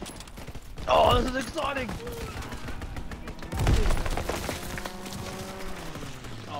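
Strafing-run air strike in Call of Duty WWII, with bursts of game gunfire rising around the one-second and four-second marks under an excited voice, over a steady background of battle noise.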